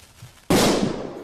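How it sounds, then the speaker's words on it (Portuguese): A small firecracker bursts with one sudden loud bang that spreads into a broad crackling, hissing decay lasting about a second, after a quiet moment. "Deixa lá comprar uma bombinha 10 para ver o que é que isto faz."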